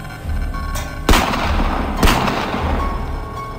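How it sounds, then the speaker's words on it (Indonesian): Gunshot sound effect in an illustrated story of a colonial-era execution, two sharp loud reports about a second apart over a low rumbling background, with no talk. "Suara tembakan itu disusul dengan lecutan pada kuda"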